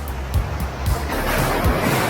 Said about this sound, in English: Ah, there's a huge wave coming.